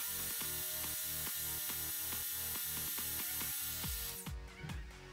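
A Bosch GWS 7-115 ET angle grinder runs steadily at minimum speed with no load, giving a constant whirring hum with a regular rhythmic pulse before shifting slightly near the end.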